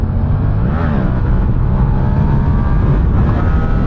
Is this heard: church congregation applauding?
no